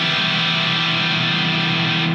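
A harsh, buzzing wash of distorted electric guitar strings rings together unmuted, dense and noisy, sustaining steadily without a break.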